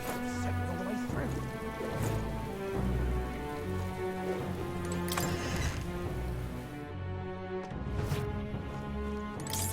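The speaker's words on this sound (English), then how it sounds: "This bloody rain set me all the way through." Steady rain falls in the video game Metaphor: ReFantazio, a dense, continuous patter with a few louder splashes, blended with a low game music bed and no talking.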